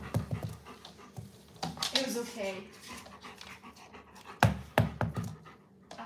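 Three dogs panting close by, with breathy rhythmic puffs mixed with a few soft thumps and clatters while a person talks over them.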